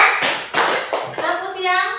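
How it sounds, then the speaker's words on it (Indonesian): Children in a classroom lesson clap their hands in a few short, close, crisp claps, mixed with children's voices chanting along. "Kalau ibu bilang tepuk siang, tepuknya 2 kali."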